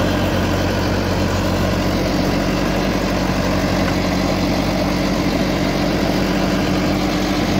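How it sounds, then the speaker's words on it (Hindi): A Farmtrac 6055 four-cylinder tractor engine idles steadily up close, a loud, constant low rumble with no break or change in pace. "और 4 सिलेंडर में ट्रैक्टर है भाइयों।"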